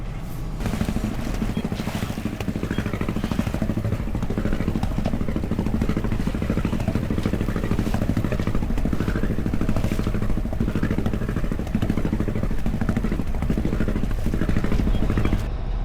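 An old saltwater-cooled inboard engine on an Albin Vega sailboat running steadily, with a loud, continuous mechanical drone and clatter and an even rhythm throughout, heard close up.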